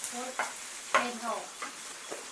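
Noodles stir-fry in hot oil with a constant close sizzle, while a utensil scrapes and tosses them in uneven strokes through the whole stretch.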